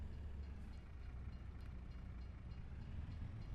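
A train rumbles past in Farming Simulator 25, a steady low, faint rolling drone with no distinct clatter that holds evenly throughout.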